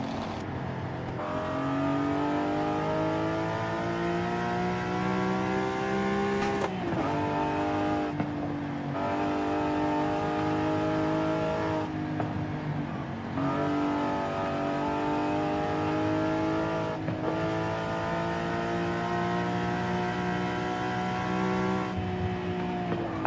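A high-revving, naturally aspirated car engine in Forza Horizon 5 roars continuously, climbing through gears with brief drops in pitch at each shift, loud and close.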